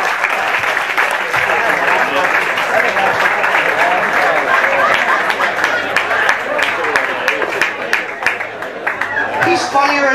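Applause and cheering from a comedy roast audience for Bob Dibuono after his Rich Vos impression, a loud sustained crowd roar of clapping with chatter mixed in, lasting the full stretch.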